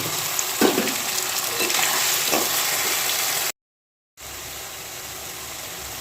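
Spice masala frying in hot oil with onions and bay leaves for a chicken curry, a loud, steady sizzle broken by occasional stirring scrapes; it cuts to silence for a moment, then the sizzling picks up again.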